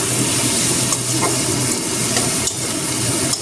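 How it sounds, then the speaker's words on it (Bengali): Onions sizzling steadily in hot oil in a pan for a Bengali fish curry, a dense continuous crackling hiss close up with no talk. "পেঁয়াজগুলো দিয়ে দিই। পেঁয়াজটা কিন্তু হালকা বাদামি কালার করে একটু ভেজে নিতে হবে।"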